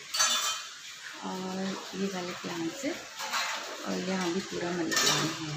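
Dishes, pots and utensils clink and clatter in neighbouring wash areas of an apartment building in the early morning, intermittent and moderately distant, while someone talks over them.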